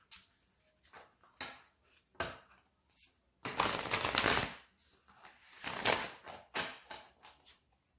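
A shaman mystical oracle card deck is shuffled in close, crisp bursts of riffling and sliding cards, with one longer, louder shuffle midway and quieter shuffles around it.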